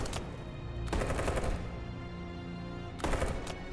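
Rapid gunfire bursts from the video game Detroit: Become Human, two loud volleys of fast machine-gun shots with a short gap between them and no voices.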